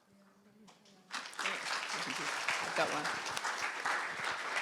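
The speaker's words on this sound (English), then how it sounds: "We don't need to clap after every bit." Audience applause at a panel on confidence and creativity, a full crowd clapping loudly and steadily for several seconds after a brief spoken line.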